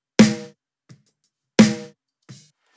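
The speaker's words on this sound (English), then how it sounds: "So you can tell that the snare has a little bit more body to it" A mixed snare drum, two firm hits with a full, tight body and short decay, each followed by a quieter ghost stroke, close and dry with gaps of silence between.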